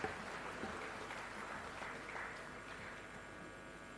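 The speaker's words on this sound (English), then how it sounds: "A round of applause for all these women" Steady applause from an audience honouring women at an International Women's Day award ceremony, a dense, even patter of clapping heard at a distance for several seconds without voices.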